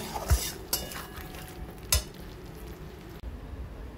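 Ghee and garam masala are stirred into a pot of cooking jackfruit, with a few sharp metallic scrapes and clinks of a spoon against the pot over a soft background sizzle. No one speaks.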